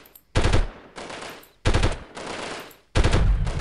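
Three loud, close bursts of rapid automatic gunfire from the video game Delta Force, each a tight rattling volley that trails off before the next, with no talking.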